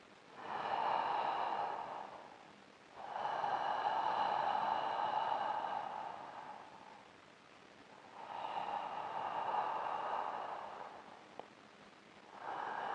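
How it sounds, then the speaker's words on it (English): Ujjayi ocean breathing with a constricted throat, practiced in yoga pranayama: three long, steady hissing breaths with a rushing, surf-like quality, each lasting a few seconds, separated by short quiet pauses. "try to make an ocean sound as you're breathing"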